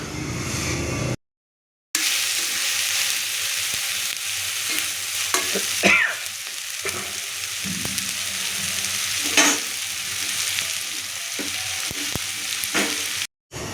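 Soaked soybeans being stirred into vegetable biryani in a pan, with a steady sizzle and frying hiss and scraping strokes of the spoon close by, and no talking.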